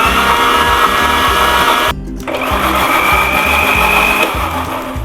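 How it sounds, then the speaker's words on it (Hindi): A kitchen blender whirring steadily as it blends a homemade hair mask, a loud continuous motor drone that dips briefly once before resuming at full speed. "अब मैं करूँगी इसको ब्लेंड।"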